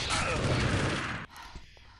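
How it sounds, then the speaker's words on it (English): A video game match erupts with a dense roar of gunfire and explosions for over a second, then cuts to quieter scattered shots and thumps. "As you can see, plenty of explosions everywhere,"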